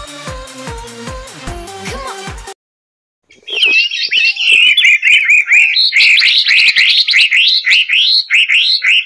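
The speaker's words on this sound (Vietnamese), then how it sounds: "Mời bạn cùng nghe tiếng chim" Several small birds sing and chirp rapidly and continuously, loud and close, in bright warbling phrases after a short stretch of other sound and a brief silence.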